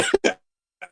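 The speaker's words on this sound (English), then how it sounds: "sorry, I coughed." Two quick, close coughs in a row, followed by a softer short cough after a brief pause.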